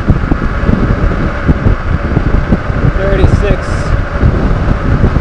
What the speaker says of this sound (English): pretty strong headwind